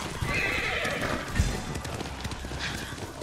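Hooves clop steadily while a horse whinnies in a video game, set against a constant background hum, with faint voices beneath.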